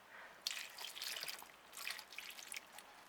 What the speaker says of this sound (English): Pour this fertilised water over that bark.